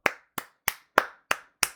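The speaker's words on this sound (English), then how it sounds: "Round of applause." Six sharp, evenly spaced hand claps from one person, close and distinct, with silence between each.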